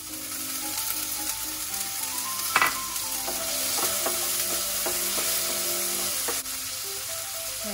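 Vegetables and ginger sautéing in a hot pan for lunch: a constant close sizzle broken by the clatter and scrape of a utensil stirring, with no speech.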